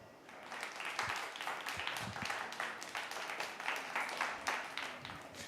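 Dense applause from a crowd of listeners thanking moderators during a live plane-spotting stream at Perth, a steady broadband clapping wash lasting several seconds with scattered louder individual claps.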